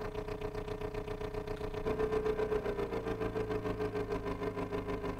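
A boxer-style addon engine runs in the Next Gen Engine Simulator game, a steady synthetic drone that idles and then rises to a louder, higher revving pitch midway through, with no talking.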